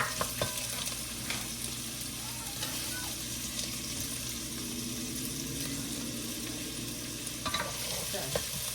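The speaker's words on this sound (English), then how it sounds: "I'm going to go ahead and saute that up" Chopped onion and green pepper sauté in a pan with a steady, close sizzle under scraping stirs, and a few sharper clinks of a utensil against the pan near the start and end.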